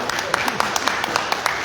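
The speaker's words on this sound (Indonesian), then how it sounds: "Tepuk tangan buat Bupati." A crowd clapping for the regent at the opening of a national trainer training event, a steady patter of many hands with some sharper claps, moderately close, over a brief gap in the speech.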